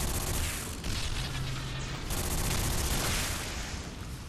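Gunfire in the shooter game Bodycount: loud, dense blasts that crack out in quick bursts over a constant roar of battle noise, with no talk.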